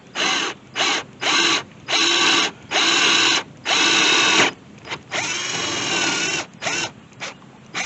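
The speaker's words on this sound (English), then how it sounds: "we're going to put the tip of the drill on the spot, and we're going to drill down" A power drill bores down into a marked spot, loud close whining bursts that start and stop in short pulses, then one longer sustained run before a few more brief bursts.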